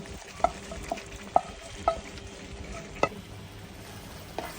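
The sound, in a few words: sautéing chicken, mushroom and capsicum in a pan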